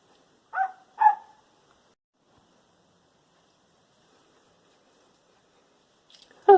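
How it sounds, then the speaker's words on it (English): A dog barking outdoors in a garden: two short barks in quick succession, a long quiet gap, then a brief burst of sound at the end, distant and fairly faint. "Oh, Alfie's out in the garden barking"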